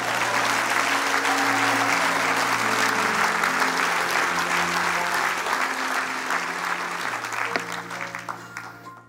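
A church congregation applauding during a sermon, a sustained, loud burst of clapping from many hands that fades slightly toward the end, with a few voices calling out beneath it.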